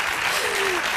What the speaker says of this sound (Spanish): Estás arrancando más aplausos que Pilar Rahola